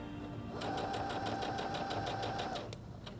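A Heavy Duty HD6805C sewing machine stitching at steady speed, giving a close, rapid, even mechanical clatter for about two seconds over a constant motor hum before slowing to a stop.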